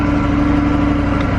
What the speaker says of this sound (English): Still one of the best sounding stock exhaust.